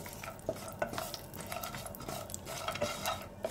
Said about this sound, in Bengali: এবার আমি প্রথমে বড়িগুলোকে একটুখানি হালকাভাবে ভেজে নেব